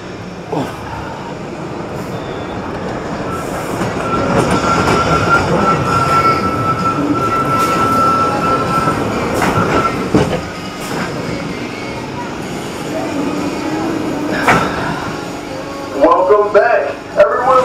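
Front-seat ride on the Mine Blower roller coaster at Fun Spot America in Kissimmee, a steady loud rumble and rattle of the cars on track with wind roar, ending with bursts of riders' voices near the close.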